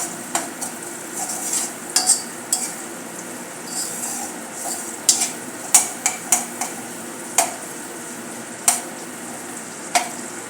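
Bhadang with garlic being fried until crispy, a low steady sizzle broken by frequent sharp clicks and scrapes of a spoon against the pan, some in quick clusters.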